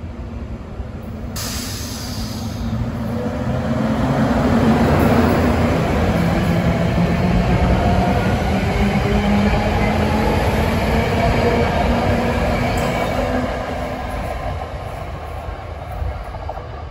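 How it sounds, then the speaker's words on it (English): A SEPTA Silverliner IV commuter train runs from Bryn Mawr toward Philadelphia, its hissing roar swelling close as it passes and then fading slowly over many seconds. "here's train 5340 from Bryn Mawr to Philadelphia at 5 o'clock"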